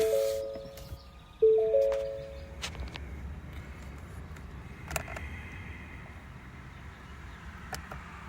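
A 2020 Ford F150 pickup with 55,000 miles sounds a two-tone dashboard chime twice in quick succession as the key turns on, clear and close, followed by quiet cabin hum and a few faint clicks.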